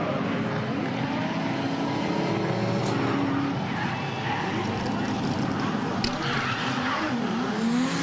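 Drift cars slide through a Falken Drift Show at the Nürburgring 24h event. Continuous engine roar and drawn-out tire squeal wail at a distance, with rising and falling tones and a faint voice underneath.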